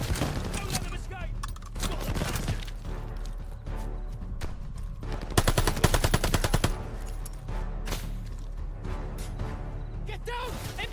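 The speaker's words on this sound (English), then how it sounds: "MG on that half track!" Rapid machine gun bursts from a half-track's mounted MG rattle through a Call of Duty Vanguard battle, loud and close, mixed with shouting soldiers and other gunfire.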